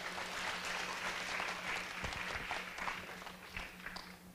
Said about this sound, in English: let's use our warm applause to welcome him